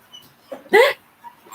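A dog gives a brief, high whimper amid soft rustling movement, close by, in an otherwise quiet room.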